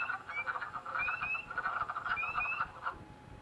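Wood frogs and spring peepers calling from an old cattle watering pond, a dense chorus of clucking croaks overlaid with repeated high rising peeps, steady and moderately near with no talk.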